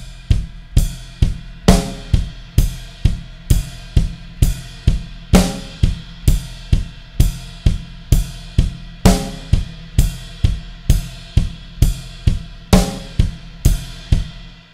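A drum kit plays a steady eighth-note groove, a double bass pedal thumping on every ride cymbal hit, with crashes accenting the start of phrases; loud, close and purely instrumental.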